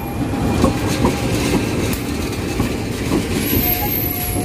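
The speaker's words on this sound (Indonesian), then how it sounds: "itu keretanya sudah datang yang dari arah luar kota menuju ke Cikarang" A KA Local Walahar train rolls into a station platform on the line toward Cikarang, a steady broadband rumble of wheels and cars with faint clacking and a brief high squeal near the end, fairly close and continuous without talk.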